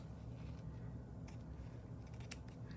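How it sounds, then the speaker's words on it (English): Scissors snip through fabric while a stitchery background for an embroidery journal page is being trimmed, giving a few short, crisp cuts over a steady low room hum. "And let's go ahead and cut this right here."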